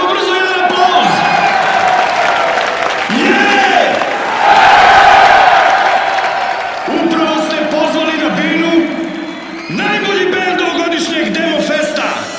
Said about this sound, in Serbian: Ajmo brzo jedan aplauz!